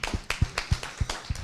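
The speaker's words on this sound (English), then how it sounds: "let's just give a hand of applause to that." A small audience at a panel on Sudbury filmmaking claps in a steady rhythm: about five crisp, evenly spaced hand claps, close and moderately loud, with no talking.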